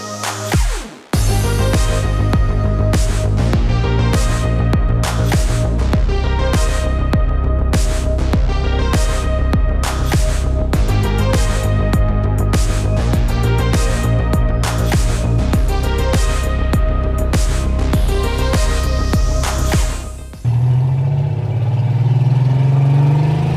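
A Porsche 911 RWB build drives with its engine running loudly, starting up and then pulling hard through rising and falling revs with distinct gear changes, before the engine note drops and a different lower drone takes over near the end.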